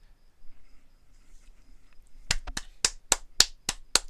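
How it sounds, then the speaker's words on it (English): A slow, sparse clap of roughly eight sharp, crisp hand claps, close and isolated, following a quiet stretch with no talking. "Applause."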